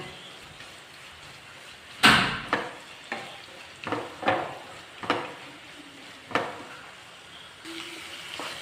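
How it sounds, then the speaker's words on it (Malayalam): Onion sautéing in a pan with crushed ginger, garlic and pepper: a soft steady sizzle broken by about seven distinct stirring scrapes at irregular intervals, close by, with no talking. "ഇഞ്ചിയും വെളുത്തുള്ളിയും കുരുമുളകും കൂടെ ചതച്ചിട്ട് ചേർത്ത് കൊടുക്കാം ഇതും കൂടെ ചേർത്ത് നന്നായിട്ടൊന്ന് വഴറ്റണം"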